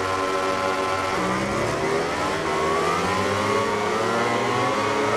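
Pack of MotoGP 20 motorcycle engines revving and climbing in pitch together at a race start, a loud, sustained, layered whine rising steadily with no talk.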